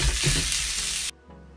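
Turkey sausage sizzles loudly in olive oil in a pan, a dense steady hiss that cuts off abruptly near the end, leaving a quiet hum and faint crackle.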